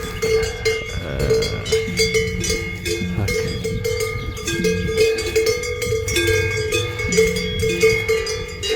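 Large cowbells hang on livestock grazing in the Swiss Jura countryside. Their clanking is loud and continuous, with many bells ringing and overlapping at slightly different pitches in a steady jangle, and nobody is talking.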